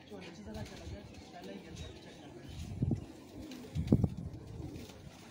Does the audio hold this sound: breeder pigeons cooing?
yes